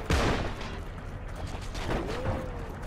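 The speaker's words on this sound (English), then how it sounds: "They are shooting at me" Gunfire in the Heroes & Generals video game: a sharp close shot opens, followed by scattered distant bursts and booms over a rumbling battlefield bed, with no talk.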